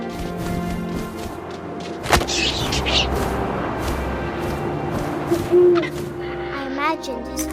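An owl hoots in the video game What Remains of Edith Finch, low and soft over a wind-like ambient bed, with a thud and faint game sounds scattered through.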